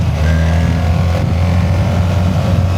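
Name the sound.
BMW R 1300 GS Adventure motorcycle accelerating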